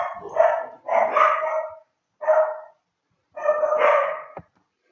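Several dogs bark outdoors in four loud bursts of overlapping barks separated by short silences, with no talk.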